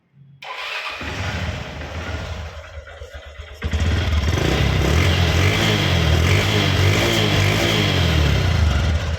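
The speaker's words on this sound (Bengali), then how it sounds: "ইঞ্জিনের সাউন্ডটা শোনেন।" A motorcycle engine starts up and runs at a steady, loud idle, with a brief dip before it settles into a continuous rumbling drone.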